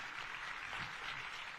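Audience applause at an awards ceremony for the First Lady's Mazingira environmental awards in Nakuru: steady, dense clapping from a crowd, continuous and fairly even for the whole stretch with no voices.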